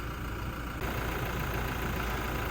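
A Toyota Fortuner's 2.4-liter diesel engine idles steadily under the open hood, giving a constant, fairly quiet mechanical hum and clatter with no speech.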